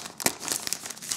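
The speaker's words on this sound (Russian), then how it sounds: "Всем, кто не любит шуршание пакетов" A plastic bag packed with a kit's instructions rustling and crinkling up close, in continuous crackly handling with a few sharper crunches.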